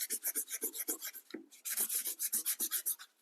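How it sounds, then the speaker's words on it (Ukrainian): Rhythmic sandpaper strokes rasp back and forth over a wooden knife handle, close and steady, each pass a short scratchy burst with a brief pause near the middle. "І беремо, зашкурюємо."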